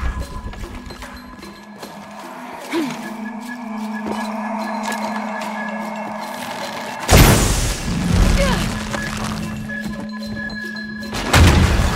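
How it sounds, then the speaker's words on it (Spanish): A sudden loud booming blast erupts around the middle in Shadow of the Tomb Raider, at a refinery, followed by rumbling debris, with a second burst near the end over steady game background noise. "Debo causar una explosión."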